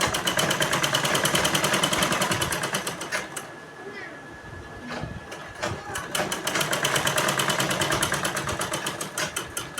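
A sewing machine stitches fabric for a baby dress in steady rapid bursts, pausing briefly near the middle before running on again, close and fairly loud.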